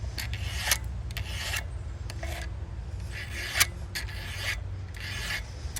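Hand file rasping across chainsaw rake teeth in slow, even strokes, a series of scratchy bursts repeating at an irregular steady pace over a low background rumble.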